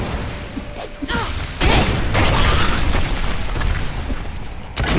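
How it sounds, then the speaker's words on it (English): Booming explosions burst through the combat sounds of the action RPG Diablo 3, thick and loud, running almost continuously with no talking. "Some explosions."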